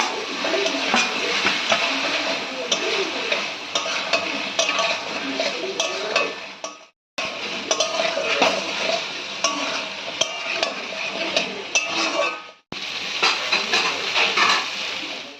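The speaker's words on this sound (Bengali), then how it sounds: "এবার বড়া দিয়েও আমরা ভালো করে কষিয়ে" Fish roe fritters stirred and sautéed with potatoes, Kashmiri chilli powder and spices in an oil-filled pan, giving a steady close sizzle with scraping spoon and pan clatter, broken by two short pauses.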